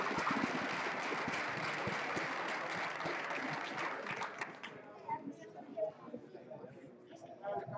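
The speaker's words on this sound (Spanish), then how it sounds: "un aplauso." An audience at the OSHWDem 2016 maker fair applauds a robot maze challenge: dense, sustained clapping for several seconds that thins out as a voice starts talking over it.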